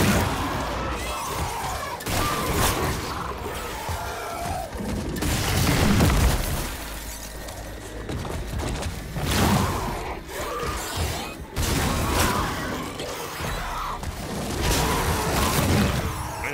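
A fire shot weapon fires in The Callisto Protocol, with heavy booming blasts and crashing impacts that stay loud and dense across the whole passage, over a rumbling game mix with no speech.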